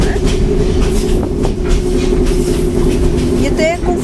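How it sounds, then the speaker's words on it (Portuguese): Passenger train running on rails through Myanmar near the Gokteik Viaduct, heard from inside an upper-class carriage: a loud, steady low rumble with rhythmic wheel clatter and a brief high squeal near the end, with people talking. "Vamos mostrar o comboio."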